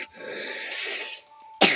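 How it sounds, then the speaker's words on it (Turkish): Harsh, noisy coughing fit from a person, one long strained cough followed by a pause and then a sudden loud burst near the end, close to the microphone. "Vücudum öksürmek istiyor ama ben öksürmek istemiyorum."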